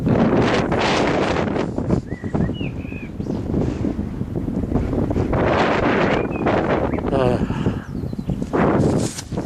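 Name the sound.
wind blowing over open field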